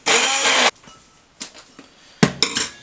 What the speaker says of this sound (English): So I've got my stem blender, and I'm going to just blitz this up a bit.